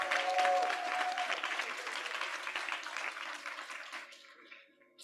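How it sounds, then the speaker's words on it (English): An audience at a business leaders' summit applauds, a dense burst of clapping that starts strong and gradually thins out before stopping after about four seconds. "Another round of applause for Kevin, surely."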